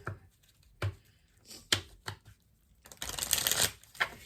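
Tarot cards shuffled by hand during a card reading, a few sharp flicks and riffles followed by a denser, louder burst of shuffling near the end, close and with no talk.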